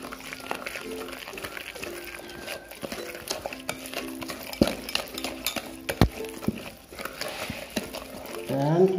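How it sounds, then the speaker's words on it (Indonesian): A spoon scrapes and knocks around a pot as thick dodol batter is stirred, with a voice talking over it. "Dan kita aduk lagi ya."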